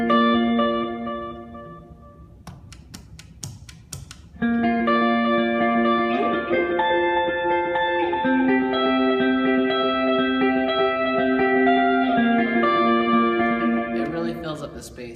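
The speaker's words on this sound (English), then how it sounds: "This is going to sound best with some reverb on" Electric guitar plays the chorus part of a song with reverb and delay, sustained notes and chords blurring into a wide, synth-like wash that rings on between phrases, alone and fairly loud after a quieter opening.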